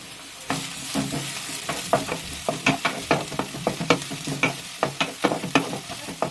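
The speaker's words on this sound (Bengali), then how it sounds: "পেঁয়াজটা সামান্য একটু ভেজে নেব আমরা। এর মধ্যে আমরা দিয়ে দেব 2টো কাঁচা লঙ্কা কুচি, দেব 4 থেকে 5 কোয়া রসুন কুচি" Chopped onion, green chili and garlic fry in hot oil in a pan under a steady, soft sizzle, broken by a quick run of sharp scraping taps as a spatula stirs the pan over and over.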